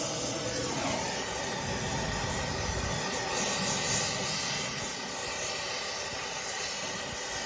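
A propane torch flame roars steadily at close range against a nut on a 2003 vehicle's control arm, heating it to melt the nylon locking insert, a continuous broadband hiss with no pauses.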